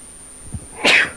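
One sharp, close sneeze rises out of quiet background noise.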